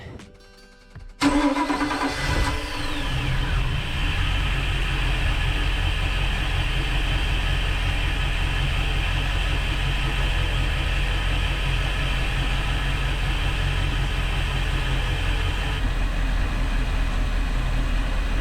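A boat engine cranks and catches after a quiet opening second, then settles into a loud, steady idle that drones on without a break to the end.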